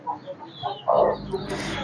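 A country hen gives short, close clucks in a quick irregular series, with one louder cluck near the middle.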